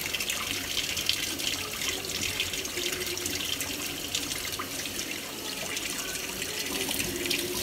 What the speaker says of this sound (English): So wash it, rinse it.